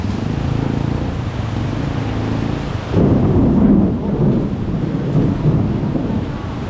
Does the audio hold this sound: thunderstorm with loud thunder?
yes